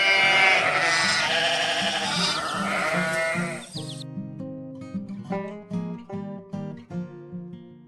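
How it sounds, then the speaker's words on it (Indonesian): Animated farm sheep bleat in a series of short, clear, wavering cries that repeat rhythmically. They follow a dense, loud burst of mixed farm sound, and no one speaks. "Lihat domba yang sedang dijaga."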